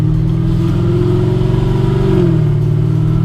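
A 2016–2024 Camaro SS with a forged LT1 V8 and fuel upgrades pulls hard, a loud close engine roar climbing in pitch, then dropping briefly near the end as it shifts.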